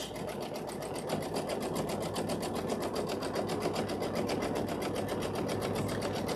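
A sewing machine running a basting stitch at steady speed, a close, continuous rapid mechanical chatter with an even rhythm throughout.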